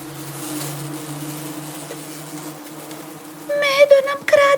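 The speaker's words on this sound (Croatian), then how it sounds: "Pčelama to nikako nije bilo po volji, pa su počele ljutito zujati i vikati." Bees from a children's story about a bear stealing honey buzz angrily, a faint, steady insect drone under background voices that turn into sharper, louder buzzing bursts near the end.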